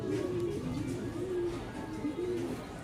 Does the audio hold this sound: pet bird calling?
yes